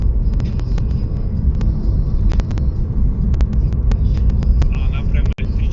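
Steady low road rumble and tire noise fill the cabin of an Evolute electric taxi with poor sound insulation, continuous and fairly loud, with faint clicks and knocks on top.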